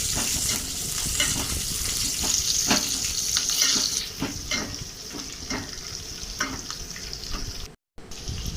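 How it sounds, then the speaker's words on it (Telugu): Green chillies sizzle in a pan with oil while a spoon stirs them, loud close frying hiss with rhythmic scraping strokes, the sizzle easing partway through, no voices. "ఆ పచ్చిమిర్చిని కూడా మనం కలుపుకుంటూ ఫ్రై చేసుకోవాలి."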